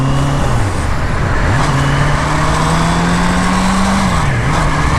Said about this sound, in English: waiting for a break in this traffic